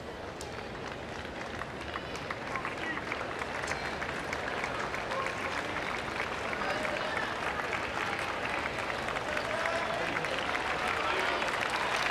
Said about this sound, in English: So the greater applause for Chang.